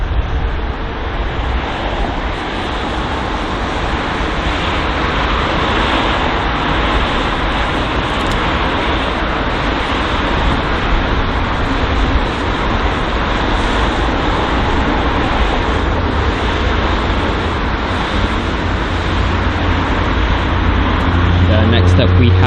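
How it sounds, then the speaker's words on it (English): An Aegean Airlines A321neo departs London Heathrow with a loud, continuous jet roar that holds steady throughout, with a voice talking over it. "There is the Aegon Airlines A321neo, most likely departing heading to Athens."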